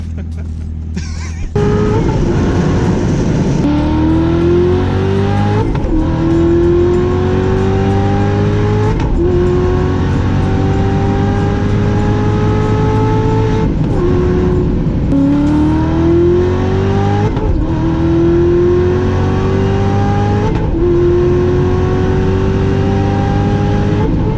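A 2019 Corvette ZR1 with a cat delete and X-pipe revs hard on a dyno in repeated loud, rising pulls, each climbing in pitch before dropping back, with the engine dominating throughout.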